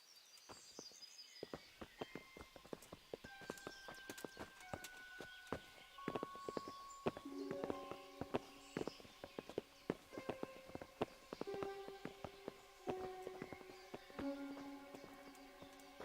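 Horse hooves clip-clop at a walking pace in the Kingdom Come video game, a faint, steady run of hoof strikes layered with soft musical tones and ambient background.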